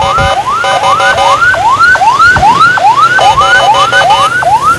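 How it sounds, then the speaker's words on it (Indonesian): A loud, close ambulance siren on an emergency run in Samarinda, Indonesia, wails in rapid rising sweeps, repeating rhythmically throughout, with a second tone layered on top in places. "Ambulan emergency, ambulan emergency."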